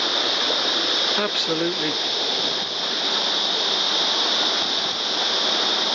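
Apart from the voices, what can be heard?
waterfall rushing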